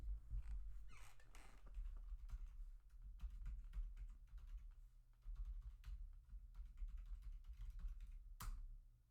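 Fingers typing on a computer keyboard in a quiet room, producing soft, irregular clicks and key taps that continue steadily with a brief louder clack near the end.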